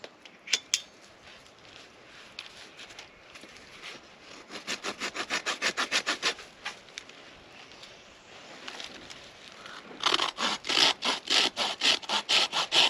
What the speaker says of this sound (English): I got to be careful with this saw.